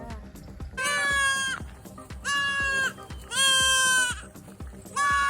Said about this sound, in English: The goats are all over this place.